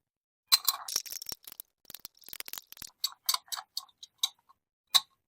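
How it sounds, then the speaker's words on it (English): A bar spoon stirs a cocktail containing Averna Amaro in a mixing glass, producing quick, bright ice clinks and taps in an irregular rhythm, close and clear with no talking. "Now we're going to give this a quick stir."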